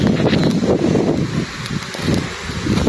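Gusty wind buffets the microphone while a 6ft kite is flown outdoors, rising and falling in rough rumbling waves over a few seconds, close and fairly loud.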